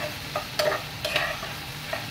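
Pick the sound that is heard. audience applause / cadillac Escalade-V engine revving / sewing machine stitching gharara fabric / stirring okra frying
stirring okra frying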